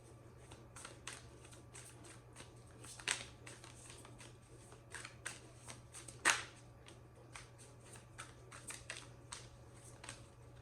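Tarot cards being shuffled by hand, a quiet, steady run of soft riffling and flicking with a few sharper snaps, close and alone against a low background hum.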